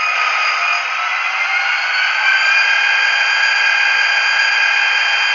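An Athearn Genesis SD45-2 model locomotive sound decoder plays a diesel at high idle, a steady bright electronic engine drone, constant and unbroken, with no talk over it.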